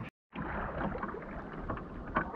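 Kayak paddling on open coastal water, a steady close wash of water and wind noise broken by a brief cut near the start, with faint splashy strokes and no talk.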